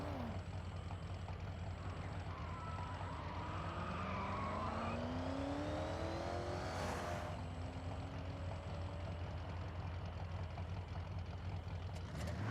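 Drag car engine in the Forza Horizon 6 video game, a continuous loud roar with rising pitch sweeps as it accelerates through gears, a sharp burst around the middle, steady and close throughout.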